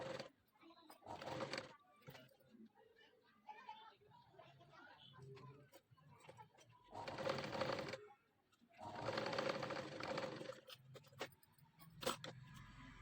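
A sewing machine stitches lace onto a blouse back design, running in several short, steady bursts with quieter handling sounds in between.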